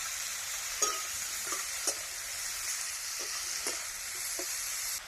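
Brinjal is fried and stirred in a pan with a steady, quiet hiss of frying oil, broken by several soft scraping taps of a spatula spaced irregularly.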